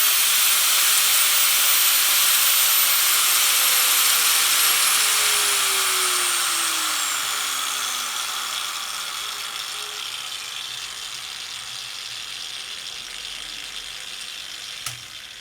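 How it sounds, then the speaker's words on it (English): A new compact angle grinder running at high speed gives a loud, steady, airy whine and rush that slowly fades over the final seconds as the tool winds down. No one speaks. "It's a very powerful angle grinder, and I tested it right now"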